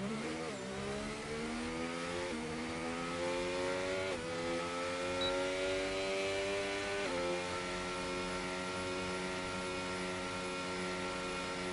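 F1 car in the F1 25 racing game running through gear shifts with rising engine pitch, each upshift dropping the tone, a steady loud drone with gearbox rumble and no talking.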